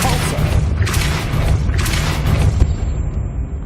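A Depulso spell cast in the video game Hogwarts Legacy: a heavy booming burst that swells repeatedly over a dense, continuous game soundscape, loud and close, with a sharper thump near the end.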